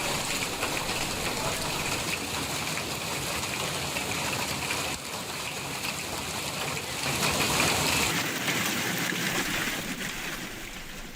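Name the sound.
heavy rain falling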